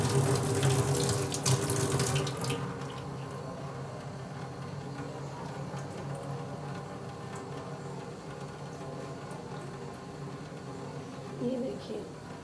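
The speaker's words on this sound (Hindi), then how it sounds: "आइए इसे अब हम लोग ठंडे पानी से धो" Cold tap water pours steadily in a kitchen sink to rinse freshly made malai, a close, even hissing splash lasting throughout, with a stronger gush at the start and a faint voice in the background.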